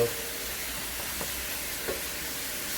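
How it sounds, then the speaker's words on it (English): Spices sauté in a hot pan for a lobster curry with a steady sizzling hiss and a couple of soft stirring scrapes, close by and without speech. "I'm gonna saute these spices a little bit, roast them."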